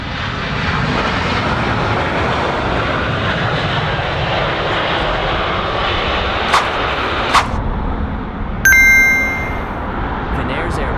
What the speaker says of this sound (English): Finnair's Airbus, a 350 to 900H, has just made a smooth landing on the runway of Phuket Airport